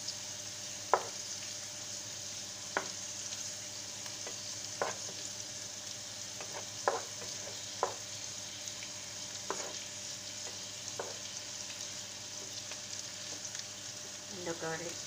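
Sausage frying for a bolognese spaghetti sauce, with a low steady sizzle and scattered sharp taps and scrapes of a spoon stirring the pan, faint and close, no talk.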